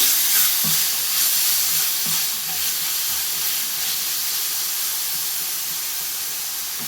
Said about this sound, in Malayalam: ഇനി നമുക്കൊന്ന് ഇളക്കി ഒന്ന് വഴറ്റിയെടുക്കാം